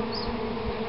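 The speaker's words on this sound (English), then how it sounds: "The bees are still there in the meter box." A swarm of bees in an outdoor electricity meter box gives a dense, steady buzz heard up close for a brief moment.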